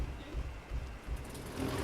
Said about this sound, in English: Engine 1's going.